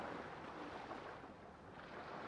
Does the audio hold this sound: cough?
no